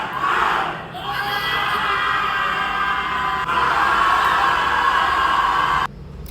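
A wedding crowd cheers loudly and continuously while high, wavering kurava ululation rings out over the roar, close and sustained before cutting off abruptly near the end.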